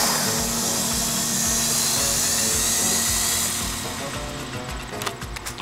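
A YD 711 Avatar remote-control helicopter flies nearby with a loud, steady high-pitched whine of its small electric motor and rotor buzz, which eases slightly toward the end.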